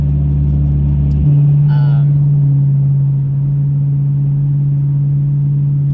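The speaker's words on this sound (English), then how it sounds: "That's got to be a cop car right there." A police car driving past on the street, a loud close engine rumble that settles into a steady low hum after the vehicle passes, with a brief voice over it.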